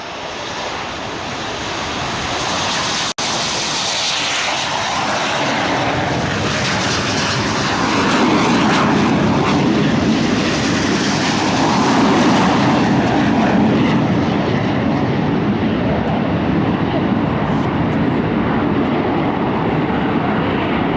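Royal Air Force Aerobatic Team jets in a flying display at Biggin Hill Airshow, a loud sustained engine roar swelling and shifting as the aircraft pass overhead.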